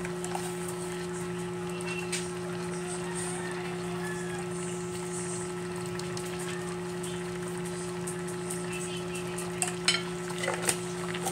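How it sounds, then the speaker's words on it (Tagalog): Santol and crabs simmer in coconut milk while being stirred, a soft, steady bubbling sizzle with light spoon scrapes and a few clinks near the end, quiet and without speech. "Yan po talagang hahaluin na yan kasi magbubuo-buo po ang gata niyan."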